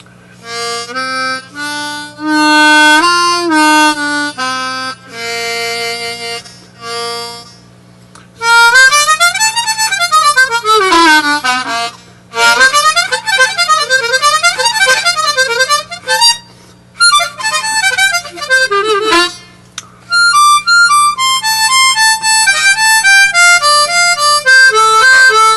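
A new harmonica played solo, close and loud, with held chords, fast runs sweeping up and down the range, and bright trills separated by short breaths.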